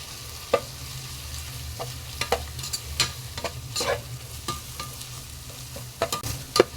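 Egg mixed with vegetables is stirred in a frying pan for chicken fried rice, a soft sizzle running underneath as sharp scrapes and taps of the spatula come at irregular intervals, close by and fairly quiet.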